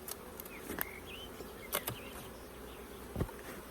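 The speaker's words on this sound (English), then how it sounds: "bees with the queen in." Honey bees buzz faintly around a hive as a colony with its queen is put on, with a soft continuous hum and a few nearby insects passing close now and then.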